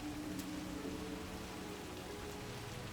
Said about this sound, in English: it's pissing rain right now, but it's nice